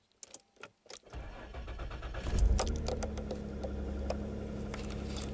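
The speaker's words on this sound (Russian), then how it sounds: "мы заведем автомобиль." A Volga car engine is started in severe frost: a few clicks and rattles, then the starter cranks and the engine catches into a loud, steady idle that runs on to the end.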